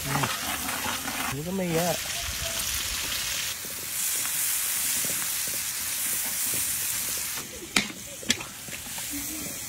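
Chopped garlic sizzles in hot oil in a pan at the start of cooking pancit puti, a steady frying hiss with a few stirring clatters and sharp taps near the end, while people talk over it.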